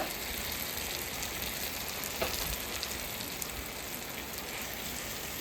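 Fried chicken pieces being stirred through masala in a hot pan for butter chicken, giving a steady, close sizzle with faint scraping, no voices.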